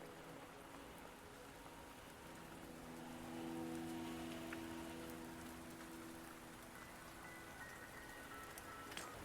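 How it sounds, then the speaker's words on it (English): Steady rain falls across a video game scene, a faint even hiss of drops holding throughout with a soft low hum beneath and no voices. "Don't worry, the rain won't last much longer."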